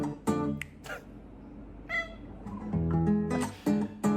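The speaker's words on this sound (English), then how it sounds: "That's a very musical kitty." A cat meows repeatedly with varied, sing-song pitches, several close drawn-out calls separated by short pauses, one rising into a higher squeaky cry near the end.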